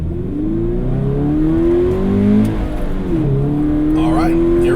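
A 2018 Subaru BRZ tS engine pulls hard on a desert track course, a loud steady rising drone with gear changes, steady throughout and close, with a voice talking over it.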